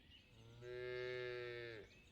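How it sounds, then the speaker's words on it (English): A cow in the farming town-building game Ostriv lets out a single long, steady moo that swells and fades over about a second, heard alone over quiet ambience. "You can really hear the cows"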